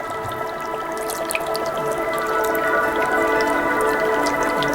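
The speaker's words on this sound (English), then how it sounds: "You want to fill this up with water." Water poured into the reservoir of an HHO limelight lamp, a steady trickling and splashing stream with scattered drips, close and fairly loud, with no talking.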